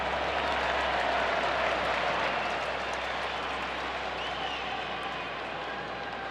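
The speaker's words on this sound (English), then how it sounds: "Crowd gives it a golf clap there" Scattered, polite golf-clap applause from a baseball crowd at a Pirates vs Rangers MLB game, a steady broad wash of clapping and crowd murmur that fades slightly toward the end.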